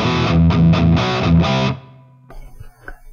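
Distorted electric guitar chords through an Axe FX 3 amp modeler, strummed in a rhythmic pattern, then cut off, leaving a ringing reverb tail that fades under light handling noise.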